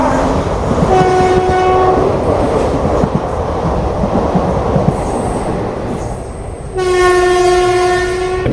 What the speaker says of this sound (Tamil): நம்ம சென்னை எக்மோர் டு மேங்களூர் எக்ஸ்பிரஸ் தான் வந்துச்சு.